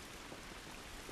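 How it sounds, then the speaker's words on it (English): Steady rain falls in the video game The Last of Us, a soft, even hiss of drops on surfaces with no other sounds or voices over it. "This rain ain't gonna do us any good."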